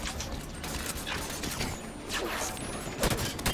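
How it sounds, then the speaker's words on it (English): Gunfire in the video game Halo 5 shooting through a window, rapid bursts of shots with cracking impacts and mechanical clatter, loud and continuous over game ambience. "Can I shoot through that window? I can."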